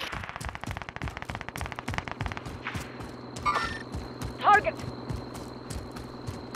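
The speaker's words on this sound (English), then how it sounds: "Oh shit, who's shooting you?" Rapid gunfire from Call of Duty: Modern Warfare crackles in a dense string of sharp shots, then thins to scattered reports, with players talking over it.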